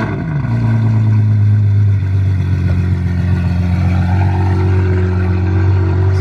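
A sports car with six exhaust outlets, three on each side, revs hard at close range, a deep loud engine roar rising and holding steady for several seconds, parked in Juan-les-Pins.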